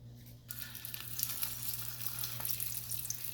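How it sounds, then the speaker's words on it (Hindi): Aloo tikki kababs sizzling in ghee on a deep tava: a steady, bright crackling fry that begins abruptly after a brief quiet start and continues evenly over a low background hum. "मैं इसको फ्राई करने जा रही हूँ और फ्राई मैं आपको बता रही हूँ घी में करनी है, ऑयल में नहीं करनी है"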